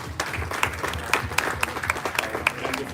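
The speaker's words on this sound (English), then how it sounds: "it deserves another round of applause" A short round of applause at an energy storage system unveiling, with distinct individual claps standing out over a softer crowd background.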